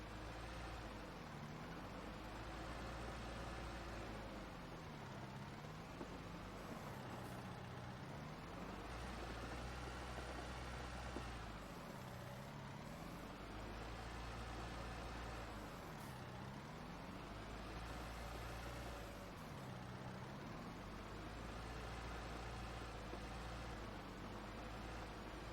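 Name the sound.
dump truck plowing snow in Farming Simulator 19 video game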